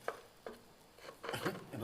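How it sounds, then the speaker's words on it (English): A metal knife scrapes and taps against a frying pan holding steak a few times, close up, with a longer grinding scrape toward the end, while camping in an abandoned mill. "Trying not to scratch the frying pan with my knife"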